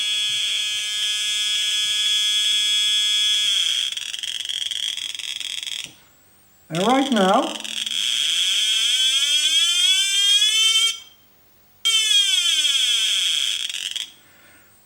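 A loud electronic buzzing tone from a 555 timer through a speaker sweeps in pitch, rising and falling as a resistor value changes, broken by two brief silences; a voice briefly speaks in the middle.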